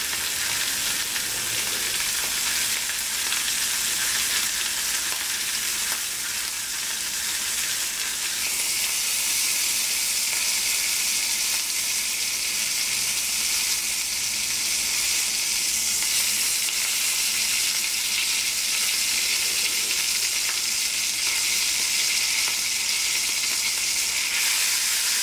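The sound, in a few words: searing fat cap of sous vide New York strip steaks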